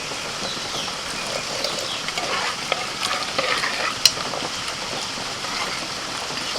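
Hot tempering poured into boiled dal with tamarind water, a crackling sizzle mixed with busy stirring and spoon scrapes, close, with one sharp metallic clink near the middle and no voices.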